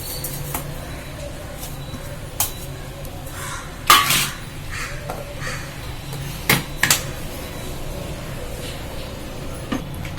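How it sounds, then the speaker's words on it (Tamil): Soaked dal and cardamom ground by hand on a stone grinder, steady low scraping under occasional sharp clinks and knocks of utensils, close and moderate in volume. "இப்போ இதில் 2 ஏலக்காயும் போட்டு நான் அரைச்சிக்கிறேன்ப்பா"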